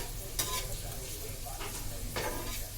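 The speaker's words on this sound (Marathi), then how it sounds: "स्लो की असं फ्राय करून घ्यायचं थोडंसं तेल टाकून" Bitter gourd (karela) frying in a little oil in a pan over low heat: a steady soft sizzle with a few sharp stirring scrapes and clinks standing out above it.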